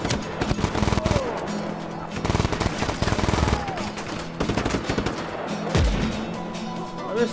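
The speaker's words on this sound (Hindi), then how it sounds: "सीधा सीधा मशीन गन में बैठ के इन लोग को मारूंगा" Rapid machine gun fire in Just Cause 3, with dense bursts of shots and explosions running throughout, loud and close, and occasional speech mixed in under the shooting.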